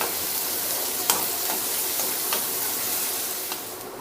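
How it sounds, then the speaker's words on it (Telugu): Onion pieces frying in oil with salt for aloo kurma, a dense steady hiss and sizzle close up, with a few faint clicks and scrapes from the spoon and no voices. "కొంచెం కలర్ మారేదాకా వేయించుకోవాలి. దీంట్లో కొంచెం సాల్ట్ వేసుకున్నామంటే ఉల్లిపాయ ముక్కలు తొందరగా మగ్గిపోతాయండి."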